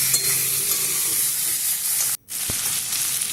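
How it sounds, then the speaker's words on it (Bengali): Vegetables coated with turmeric are stirred in a pan for a winter-vegetable khichdi, a steady broadband sizzling hiss with a spoon scrape, a brief dropout near the end, then the frying sound resumes. "হলুদটা দিয়েও ভালো করে সবজির সাথে মিশিয়ে নিতে হবে"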